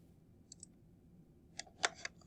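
A few quiet, sharp computer mouse clicks sound close by, one pair early and then a quick cluster of three, against a faint low background hum.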